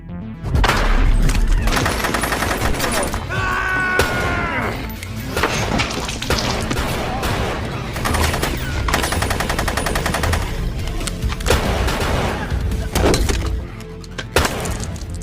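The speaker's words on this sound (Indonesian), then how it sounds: "Jack ditodongi senjata oleh para anak buah Gino, hingga terjadilah aksi baku tembak" A film gunfight erupts with dense machine-gun bursts and rapid gunshots mixed with cracks and crashes, loud and continuous across the whole scene.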